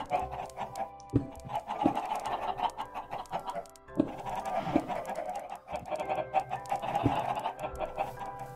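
Repeated Minecraft chicken clucks sound close and continuous, broken by a few sharp percussive hits from the game, with no voices present.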